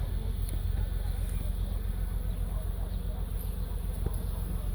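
Honey bees drone in a dense, steady buzz at an open hive, a continuous close-up hum with brief faint voices over it.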